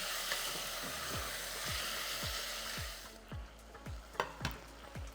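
Meat sizzles in a pan over low heat, a constant frying crackle with repeated soft scraping stirs that fall into a steady rhythm, close by.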